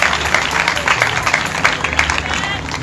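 A church congregation claps steadily, a dense wash of many hands at fairly close range with a faint murmur of voices beneath the applause.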